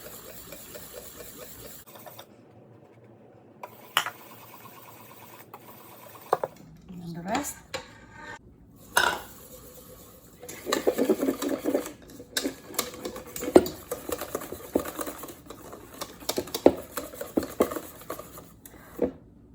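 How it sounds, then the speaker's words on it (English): A whisk clatters quickly and irregularly against a bowl while matcha chiffon cake batter is mixed, the rapid metallic ticking growing busier and louder after a quieter start. "So you want to whisk this mixture until it looks like this"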